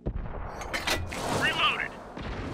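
The Sexton I tank's gun fires in World of Tanks, a short sharp boom followed by mechanical clanks and a rumbling tail, with a voice speaking nearby.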